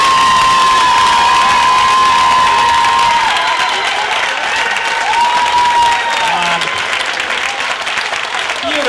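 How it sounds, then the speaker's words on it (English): Audience applause and cheering fill a comedy club after a stand-up set, a steady loud crowd wash with whoops and shouts rising over it throughout. "Give her another round of applause."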